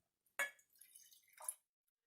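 Fermented cabbage juice drips while being strained in a homestead kitchen, two soft, close wet splashes with faint trickling in between, set against near silence.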